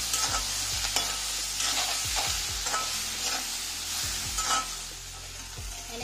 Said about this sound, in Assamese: আৰু এতিয়া মই ইয়াত আৰু 15 মিনিটমান ফ্ৰাই কৰিম